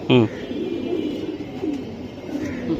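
Silver pigeons coo in low, throaty, rolling calls that run throughout at close range, after a brief louder sound at the start, with faint background noise.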